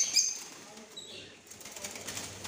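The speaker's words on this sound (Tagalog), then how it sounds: "Lovebirds." Lovebirds flap their wings in a pet and bird shop in Al Wakra, Qatar, a faint fluttering rustle with light background noise and no clear calls.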